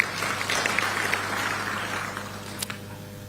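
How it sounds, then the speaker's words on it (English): Audience applause in a large hall at a diplomatic launch event in Addis Ababa, a moderate steady clapping wash with a low hum underneath and a few sharper claps near the end. "A round of applause."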